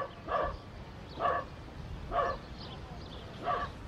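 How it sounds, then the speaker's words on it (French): A Pyrenean Shepherd dog barks four times in an evenly spaced series, each bark a sharp, close, fairly loud yap over quiet room noise. "C'est un abri des Pyrénées. Il est très très gentil mais il est bruyant"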